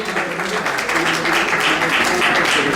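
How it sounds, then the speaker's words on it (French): A short burst of audience applause at the Nzonzing Awards ceremony, close and fairly loud clapping from a hall crowd, with faint talk mixed underneath. "Est-ce qu'on peut applaudir?"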